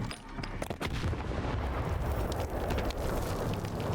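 Grenade blast in the Stalker 2 video game, a heavy rumbling explosion with a sharp opening burst that settles into a sustained, roaring low boom, loud and close, without voices.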